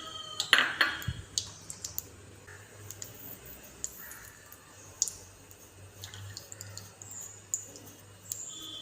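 Pan set down on a stove with oil poured in, a sharp metallic clank at the start followed by light clicks, pings and a soft liquid pour, close and alone with no voices.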